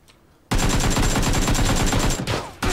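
Full-auto gunfire in PUBG Battlegrounds rattles out as a loud, close, unbroken rapid burst lasting about two seconds, then a brief pause before it resumes.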